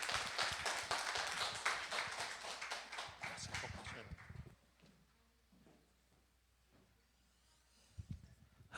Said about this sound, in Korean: 우리 김영대 선교사님 우리 나와주실 때 힘찬 환영의 박수로